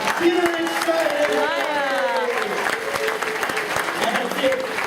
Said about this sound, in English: Give her a big round of applause out there.